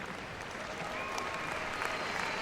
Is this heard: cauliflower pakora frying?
no